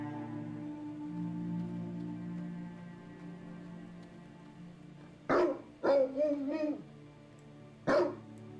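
A dog in the video game Black Legend barks in short bursts: a quick double bark, a longer whimpering yip, then a single bark moments later, standing out over a quiet low musical drone.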